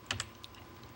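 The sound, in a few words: typing on a computer keyboard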